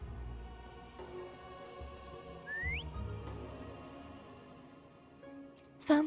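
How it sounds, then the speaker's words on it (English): In the video game Wuthering Waves, a single short rising whistle calls Foam, a brief clear note over quiet ambient game music. "Try whistling."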